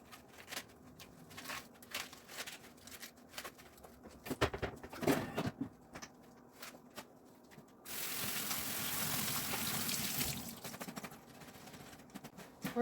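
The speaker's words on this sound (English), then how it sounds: "And this lettuce, we're going to just rinse it." Tap water runs over lettuce being rinsed in a kitchen, a steady rushing splash of a few seconds that follows light clatter and handling noises.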